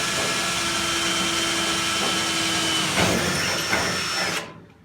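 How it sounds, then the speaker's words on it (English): A power drill bores a hole through a steel car panel on a classic Mini pickup under restoration, its steady motor whine running loud and close for about four seconds before cutting off, with a couple of knocks near the end. "when I just drilled the other one just now"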